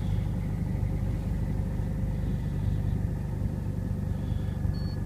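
In freezing weather, a Lada Priora car engine runs just after a cold start, a steady low rumbling idle heard from close by, with no talking.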